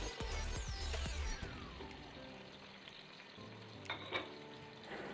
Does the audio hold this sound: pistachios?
yes